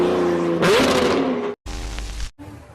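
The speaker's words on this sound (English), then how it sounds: "This Lambo driver shows off his new exhaust." A Lamborghini with a new aftermarket exhaust revs loudly, its engine note rising sharply, followed by further bursts of exhaust roar separated by abrupt cuts.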